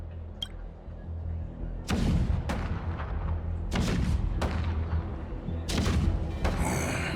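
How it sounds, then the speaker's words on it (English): Video game cannon fire in Honkai: Star Rail booms repeatedly over a low continuous rumble, several heavy blasts spaced irregularly, loud and close. "The rumble of the cannons."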